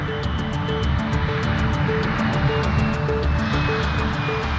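RAF military aircraft on a training flight at Camp Bastion, a steady, fairly loud engine roar with a droning tonal hum that holds throughout, no voices.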